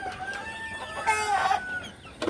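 Farmyard chickens clucking close by while a strong rooster crows once in the middle, with a brief rustle at the end.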